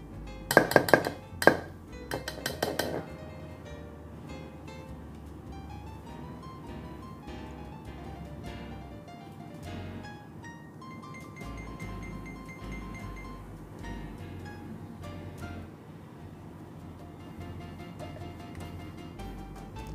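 A metal spoon clinks sharply against a bowl several times in quick succession while ghee is added to kachori dough, followed by quieter scattered taps and soft kitchen clatter.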